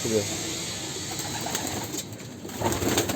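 Pigeons in a coop coo repeatedly, a soft, throaty rolling murmur that continues throughout with birdcalls layered on top and a bit louder toward the end.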